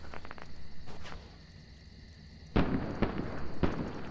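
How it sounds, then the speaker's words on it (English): Fireworks go off in a video game, a cluster of sharp bangs and crackles arriving loud and sudden after a quieter stretch, with lighter pops before it. "Nice pretty fireworks."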